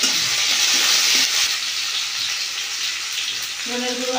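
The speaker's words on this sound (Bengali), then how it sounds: "নেড়ে দেবো।" Green chilies, tomato and grated ginger frying in hot oil while being stirred, a loud, continuous close sizzle with scraping stir sounds and no talk.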